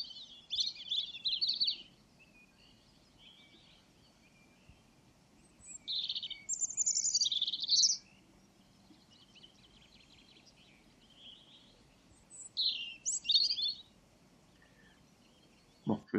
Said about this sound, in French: Le rouge-gorge, c'est quand même un oiseau qu'il faut bien connaître